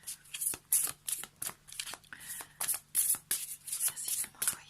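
Oracle cards from a water-spirits deck being shuffled by hand, a rapid run of crisp riffling bursts with short pauses between them, close and fairly quiet, with no talking.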